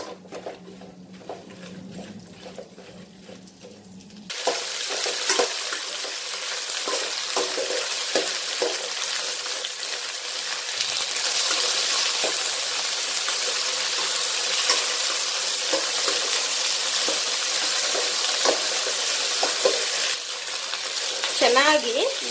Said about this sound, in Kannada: ಬೆಂಡೆಕಾಯಿನ ಬಾಂಡ್ಲಿಗೆ ಹಾಕಿ ಸ್ವಲ್ಪ ಎಣ್ಣೆ ಹಾಕಿ ಚೆನ್ನಾಗಿ ಹುರ್ಕೊತೀನಿ